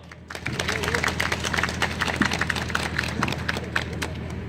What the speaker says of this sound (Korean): 우리 지부장님 또 부지부장님 박수 한번 쳐주시죠